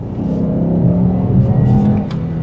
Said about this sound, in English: you just get a hint of that lovely 5-cylinder kind of warbly sound